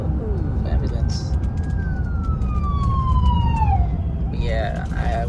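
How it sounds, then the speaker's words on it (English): An ambulance siren wails past over steady road rumble inside a truck, its pitch sliding downward as it goes by, with a voice speaking briefly near the end. "Oh, ambulance."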